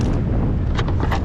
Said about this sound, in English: apparently I lied and it is windy out